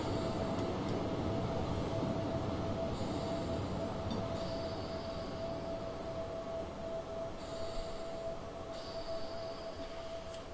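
A BR145 electric locomotive in Train Simulator 2016 on the Hamburg–Lübeck route gives a continuous rolling rumble with a steady whining tone and intermittent higher clatter and hiss throughout.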